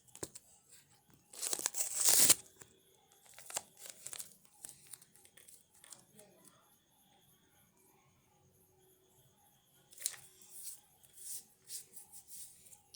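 Masking tape ripped off the roll and pressed onto painting paper, a loud tearing burst followed by soft scattered crinkles and rubbing, then another short tearing run, all quiet and close.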